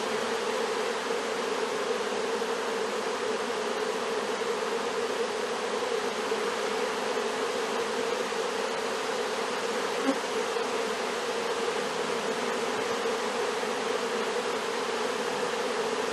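Dense, steady buzzing of many honey bees swarming close around a hive, a continuous drone with no speech.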